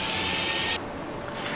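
Power drill running steadily with a high whine, then stopping partway through as the whine drops away, leaving a quieter workshop hum; drilling out center-punched holes before tapping them.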